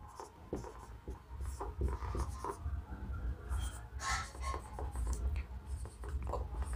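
Chalk or marker scratching steadily across a board during a physics lesson, in a continuous run of short strokes and taps, close and fairly loud, with no talk over it.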